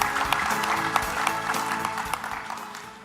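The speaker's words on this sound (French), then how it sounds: "Sous vos applaudissements." Steady audience applause in a conference hall at a cybersecurity conference, moderately loud massed clapping that continues evenly and tapers slightly toward the end.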